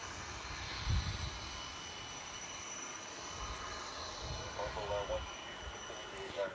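At DFW airport an Airbus A380 taxis, its engines a continuous, fairly quiet whine with high tonal hum over a broad airy rumble, lasting the whole stretch with a few soft thumps.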